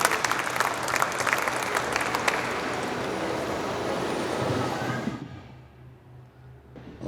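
An audience at a poetry gathering breaks into loud, dense applause welcoming an army colonel, sustained for about five seconds before tapering off quickly into near quiet.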